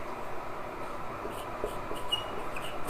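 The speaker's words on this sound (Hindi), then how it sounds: "यहां पे लिख लेते हैं थोड़ा सेंटर में।" A marker or chalk writing on a board in a class 8 science lesson makes faint, soft scratchy strokes over a quiet room hum, with no talking.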